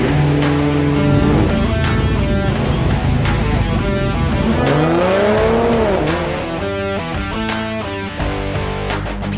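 A channel intro jingle with car racing sounds, music mixed with engines revving and passing and tires squealing, several sharp hits punctuating it, loud and continuous, with no talk.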